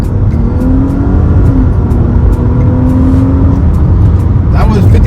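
A 2022 Nissan Maxima SL pulls at full throttle from inside the cabin, its engine drone rising in pitch under a loud, steady road roar while people talk over it.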